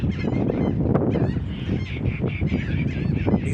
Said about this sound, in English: These birds out here, fighting.